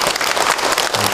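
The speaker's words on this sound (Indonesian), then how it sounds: "Tepuk tangan buat yang bertanya." A burst of loud, dense clapping from a crowd at an Islamic lecture fills the whole moment, steady and close.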